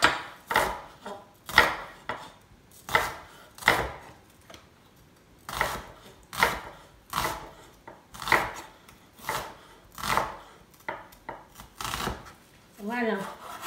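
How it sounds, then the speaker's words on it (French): A knife cuts through a red onion on a board in a long run of regular, crisp chopping strokes, about one per second, close and distinct, with no one talking. "mon oignon rouge, je le coupe comme ça, en deux."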